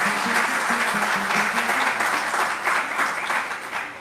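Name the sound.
audience applause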